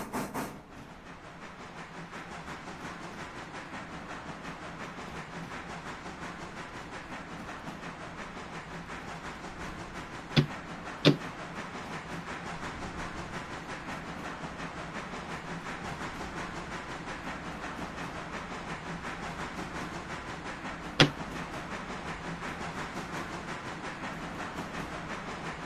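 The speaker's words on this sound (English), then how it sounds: "Once the boxcars clear the point" Railroad boxcars rolling slowly along the track, making a continuous low rumble with steady hiss and a few sharp metallic clanks, heard from close by.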